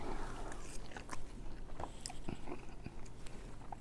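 Someone bites into and chews Southern-style collard greens cooked with onions, with quiet close-up crunches and wet chewing clicks in an irregular rhythm and no talking.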